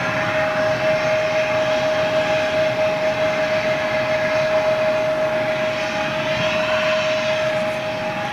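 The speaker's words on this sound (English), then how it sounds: "We'll wait for this little Embraer to go out" A small Embraer jet with CFM engines departs Manchester, a steady engine roar with a sustained high whine running throughout at moderate, even loudness, no voices.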